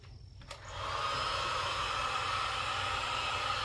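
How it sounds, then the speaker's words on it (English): A heat gun switches on after a brief click and settles into a steady, loud whooshing blow of hot air, used to flash dry a freshly painted rifle barrel on a humid day outdoors. "Now I'll just take my heat gun"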